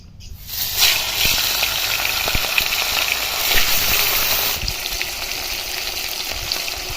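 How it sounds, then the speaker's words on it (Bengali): Pomfret fish hits hot oil after a moment of near quiet, bursting into a loud, close sizzle with crackling spits that runs on steadily and eases slightly toward the end. "তেলটা আমার গরম হয়ে গেছে আমি এর মধ্যে এবার মাছটা দিয়ে দিচ্ছি"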